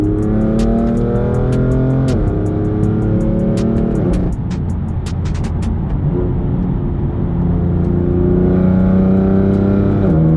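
BMW M4 with valved exhaust unplugged and a secondary catalytic converter, revving hard with rising and falling engine notes and a brief drop in the middle, loud and close without any talk.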